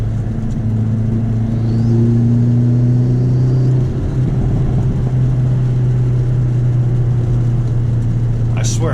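A Hyundai Elantra N engine drones steadily from inside the cabin while driving on winding roads in the rain, a loud low hum with a slight rise in revs and constant road noise beneath it.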